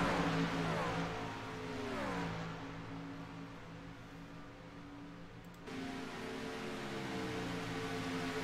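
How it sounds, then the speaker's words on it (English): Racing trucks at Talladega roaring past on the track, engine tones sweeping down in pitch as they pass, a steady loud drone with a second wave of engines arriving later. "these trucks sound good anyway"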